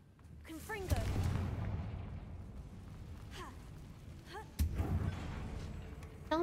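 A Confringo fire spell in Hogwarts Legacy goes off in a booming blast with a deep rumble, followed by a second heavy impact, with chirpy game effects and a voice talking over it.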